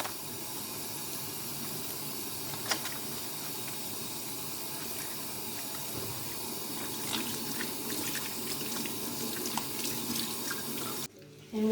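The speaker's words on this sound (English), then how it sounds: "we're gonna start by washing our hands. Make sure your hands are clean." Running tap water splashes over hands being washed at a kitchen sink, a steady close hiss of flowing water that continues without break before cutting off abruptly at the end.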